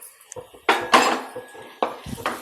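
A metal spoon scrapes and clinks against a pan while spices are stirred and sautéed for a spicy dried-fish sukat bhaji, several distinct scrapes and taps with quiet pauses between them, close up, without speech.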